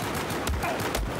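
Gunshots from a QSZ-92 pistol in a video game, heard as a couple of sharp, punchy bursts over a steady low game background.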